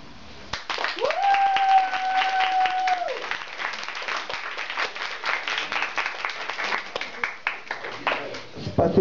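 An open-mic audience applauds after a long poem reading with steady, sustained clapping from many hands. A brief electronic whine sounds near the start, and a voice briefly speaks over the clapping.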